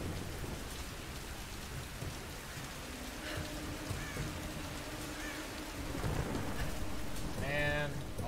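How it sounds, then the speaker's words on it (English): Steady rain falls in the Tomb Raider video game weather effect, a continuous hiss with a low rumble beneath and a brief faint tonal sweep near the end. "All this rain, dude."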